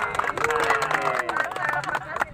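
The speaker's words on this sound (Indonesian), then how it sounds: "Tepuk tangan." A crowd applauds farmers at a rice harvest event with the regent of Pandeglang in Carita, the clapping dense and continuous under lively voices and cheering throughout.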